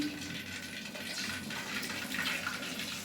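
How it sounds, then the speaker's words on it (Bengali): Cornflour poured into frying oil over low heat, giving a steady broadband hiss and watery rush that runs unbroken and fairly loud throughout, with no talking. "এবার কর্নফ্লাওয়ারটা ঢেলে দিচ্ছি"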